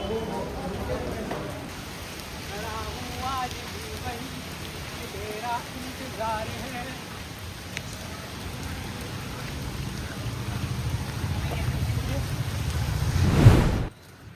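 Rain pours outside a university canteen in a steady, broad wash, heard under people talking nearby, and the rain swells louder near the end.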